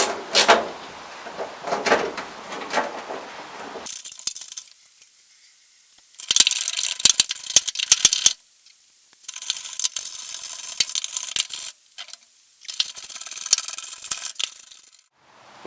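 Ratchet tightening steering rack bolts on a Classic Mini, short bursts of clicking and metallic rubbing separated by quiet pauses, close up and alone.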